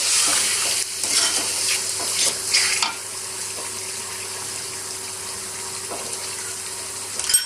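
Green chili paste being stirred into masala frying in a pot for Punjabi biryani, with a loud hiss and scraping that fade after three seconds into a steady, softer sizzle and finish with a final clatter.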